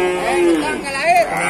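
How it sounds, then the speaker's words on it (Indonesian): Cattle mooing at a livestock market, two drawn-out, close, loud calls with rising and falling pitch, the second shorter, against a background murmur of people. "Ini sapi misterius masuk pasar"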